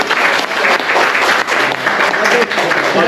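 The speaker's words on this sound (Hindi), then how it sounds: "आप लोगों के तरफ से तालियां बजनी चाहिए" Audience clapping continuously at a family retirement celebration, a dense, loud, steady wash of applause filling the whole stretch with no pauses.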